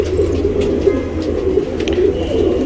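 A tournament racing pigeon coos close by in steady, soft repeated murmurs, loud against a quiet loft background.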